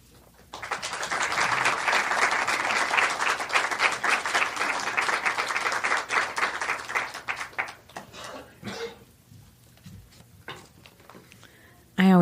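A crowd at a birds-and-poetry reading breaks into sustained applause after a poem, a thick wash of clapping lasting several seconds before it tapers off and a voice begins speaking.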